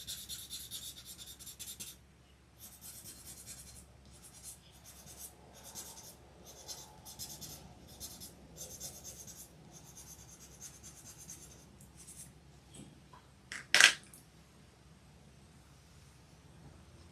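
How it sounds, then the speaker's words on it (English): A colorless blending pencil is rubbed across a drawing board during hyper-realistic portrait work, giving a soft, steady scratchy rasp in short strokes with brief pauses and one sharper scrape near the end. "I like to rub the colorless pencil on my board every so often just to kind of clean it off."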